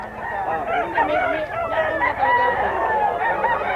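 Gamefowl stags, among them a gray bull stag, call at a Pampanga gamefowl breeder's yard. Loud, overlapping squawks and crow-like cries from several birds run continuously, close by.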